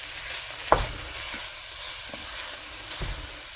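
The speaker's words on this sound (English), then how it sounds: "we're going to drop our ground beef in there, and we're going to start breaking it up like so." 85-15 ground beef sizzles steadily in a hot pan, with a few soft scraping knocks as it is broken up, close and alone.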